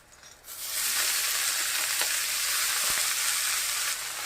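Bathua and fenugreek greens hit a hot wok with fried brinjal, bursting into a loud, steady sizzle that holds evenly for several seconds, with a couple of faint spatula taps.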